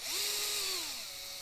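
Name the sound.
drill bit drilling holes in model car part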